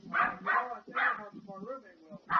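A dog barks in a handful of sharp bursts spread across a few seconds, heard in a tense indoor confrontation with people talking around it.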